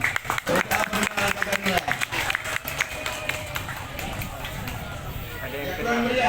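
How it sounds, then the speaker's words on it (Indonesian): An outdoor crowd at a Purna Paskibraka flag-troop performance in Dewantara, Aceh Utara claps steadily and densely, with chatter and calls mixed in throughout. "Ya, tepuk tangan dulu."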